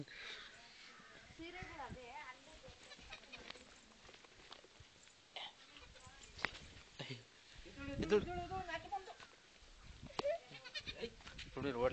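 A black goat bleats repeatedly in short, uneven bursts near a playing child. People talk around it, and the bleats grow louder and busier toward the end.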